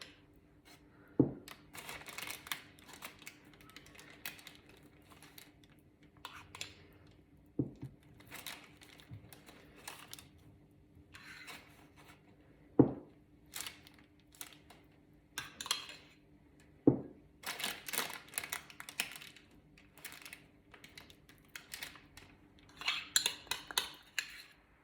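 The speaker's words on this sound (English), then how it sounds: "now what I'm going to do is I'm going to spread it with some jam" A knife spreads jam across lamington sponge with soft, intermittent scraping and smearing strokes, separated by quiet pauses and punctuated by a few light clinks of the blade against a plate; close and faint, with no talking.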